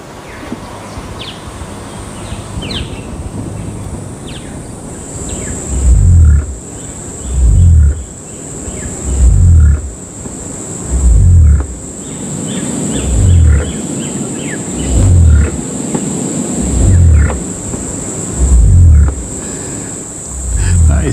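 Cassowary giving a series of deep, booming low calls, about eight pulses spaced roughly two seconds apart, loud and resonant against a steady high insect or bird hiss outdoors.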